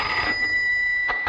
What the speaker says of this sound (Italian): Questo è il telefono.